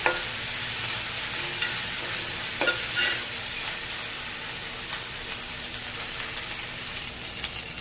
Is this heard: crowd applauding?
no